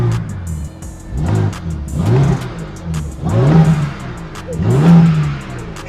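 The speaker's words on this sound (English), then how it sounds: "You got the car turned on." A wrecked BMW M4 engine is revved hard nearby, four rising blips at roughly even intervals, each climbing then dropping back to a rough idle, loud and close.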